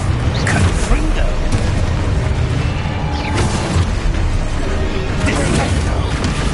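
Confringo fire spell blasts in the game Hogwarts Legacy, loud booming bursts amid constant dense combat noise and mechanical clatter, with a voice calling spells over the action.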